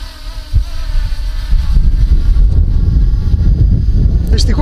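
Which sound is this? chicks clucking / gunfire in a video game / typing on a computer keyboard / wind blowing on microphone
wind blowing on microphone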